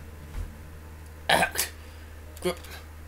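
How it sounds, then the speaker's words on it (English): A few short, rough throat bursts, a brief cluster followed by a single later one, a character coughing in the video game Return To The Portrait, fairly close over a quiet background hum. "Yuri coughs a bit."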